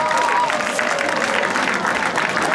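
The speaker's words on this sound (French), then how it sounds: "Applaudissez pour eux." A crowd at an outdoor Mother's Day political rally in Guiglo, Côte d'Ivoire applauds arriving guests with dense, steady clapping throughout, and a voice can be heard faintly beneath it.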